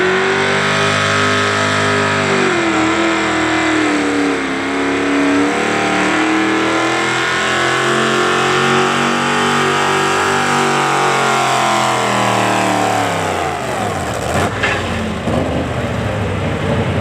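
Truck and tractor pull at Bunker Hill Shootout in Beloit, Ohio: a pulling tractor's engine roars loud and steady for a long run, pitch climbing then sagging as it labors down the track, with no talk.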